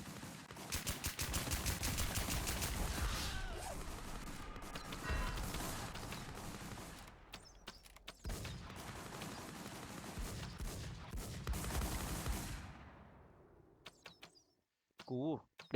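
Shotgun fire in the online shooter WarZ comes as dense, overlapping blasts that fill most of the stretch, break off briefly, resume, then thin out to a few scattered shots near the end.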